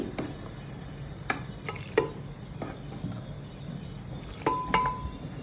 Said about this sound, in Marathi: आता कुकरमध्ये टाकून घेते मी भाजी